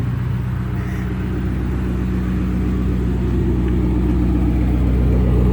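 A Ford Mustang GT's exhaust rumbles steadily at idle, deep and throaty, loud and close, with a low pulsing burble throughout.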